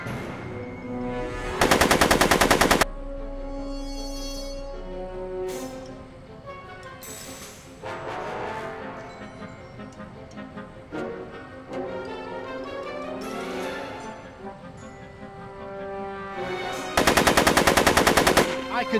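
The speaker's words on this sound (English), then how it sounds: "Are you shooting at me?" Machine gun fire in the Back to the Future video game: two loud sustained automatic bursts, one near the start and one near the end, with game music and effects playing between them.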